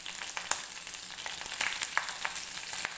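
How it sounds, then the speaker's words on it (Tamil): Curry leaves with mustard and fenugreek seeds fry in hot oil as tempering for pirandai kuzhambu, a close, steady sizzle dotted with small crackles and pops. "நல்லா பொரியட்டும்."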